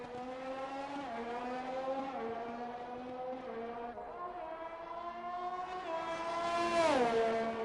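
Race cars in a racing video game sweep around the Bahrain circuit, a steady high-pitched engine whine that rises and falls with gear changes and climbs louder near the end, with no talk over it.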